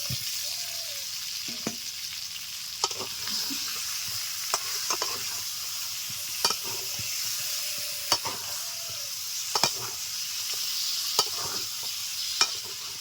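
Chicken curry with previously fried potatoes sizzling in a pan, a steady close hiss broken by regular sharp clicks and scrapes of a spoon stirring.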